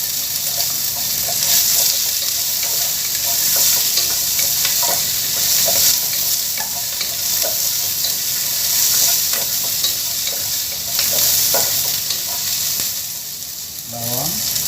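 Onion sizzles loudly and steadily in hot oil for Filipino tinolang manok, with frequent scraping and clinking of a utensil stirring it in the pan.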